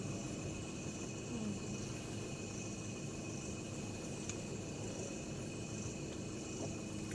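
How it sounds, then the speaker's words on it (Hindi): Crickets chirping at night in a jungle, a steady, faint, continuous high-pitched trill with a low background hum, heard alone without talk. "ये तो झींगर है।"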